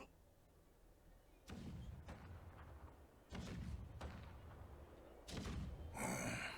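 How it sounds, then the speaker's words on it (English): Distant cannon fire rumbles in the video game Honkai Star Rail, several deep booming thuds spaced a couple of seconds apart over a low, steady ambient hum. "The rumble of the cannons."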